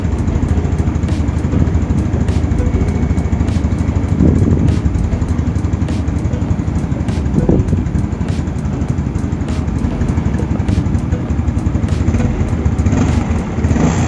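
An old Yamaha Mio Sporty scooter fitted with a PE 24 carburetor runs steadily at close range, its loud engine chugging with a constant drone and a regular faint ticking throughout.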